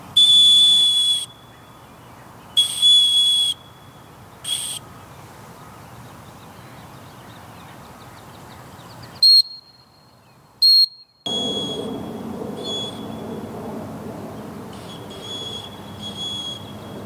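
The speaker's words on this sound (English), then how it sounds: "Now let's test out the whistle using this decibel reader." Leatherman Signal whistle blown for a decibel test, with a small Nite Ize whistle for comparison: a few shrill, piercing blasts, some short and clipped, then two louder bursts and a long steady tone over faint room hiss.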